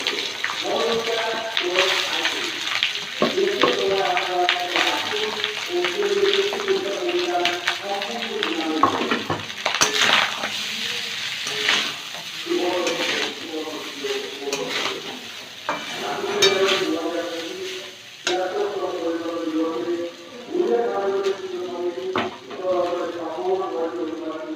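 Rice and vegetables for veg fried rice are stir-fried in a pan, sizzling steadily while a spoon scrapes and stirs in repeated bursts, with a voice speaking over the cooking at times.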